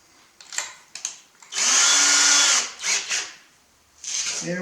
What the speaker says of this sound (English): And we're going to screw them down.